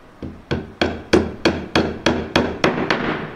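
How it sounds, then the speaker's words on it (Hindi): Hammer driving nails into wood, ten sharp evenly spaced blows in a steady rhythm, loud and close with no talk. "अब मैं आपको हथौड़ी से इसका 5 खीली मार के बताता हूँ कितना टाइम लगता है"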